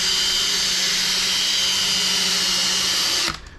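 P&S Double Black interior cleaning system working a car carpet, a loud steady high-pitched motor whine with brushing that runs unbroken, then cuts off abruptly at the end.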